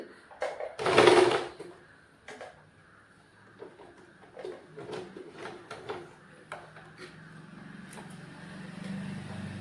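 A sewing machine stitches a folded hem in contrasting thread: one loud, close burst of rapid stitching, then quieter intermittent clicks and short runs of the mechanism.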